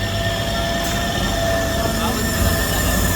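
Train pulling away from a station, a steady loud mechanical rumble and hum with a faint rising tone, continuous throughout, with background voices mixed in.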